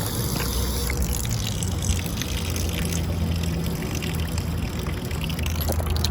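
A drinking fountain runs steadily along a jogging path, its water pouring in a continuous close splashing rush with no pauses.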